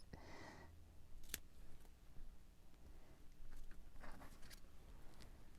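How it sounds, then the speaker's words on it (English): Quiet snipping of scissors through paper, a few short crisp cuts with soft rustling in between, close by. "I'm going to cut it with my scissors"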